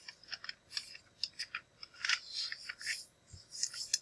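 Scissors cut through a folded paper square in a series of short, crisp snips with faint rustling between them, close and quiet.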